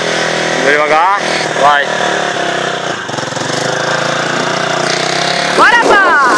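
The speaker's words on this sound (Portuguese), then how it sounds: "Acelera agora, se ele apagar, eu acho que não liga mais, né?" Small motorcycle engine revving up and down nearby, a loud, continuous buzzing drone with rising pitch sweeps, while people shout encouragement in Portuguese over it.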